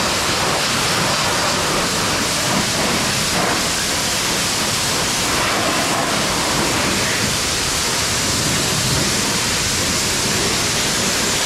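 A steady, loud rush of water spray rinses the inside of a RZR side-by-side, a continuous close hiss with no pauses.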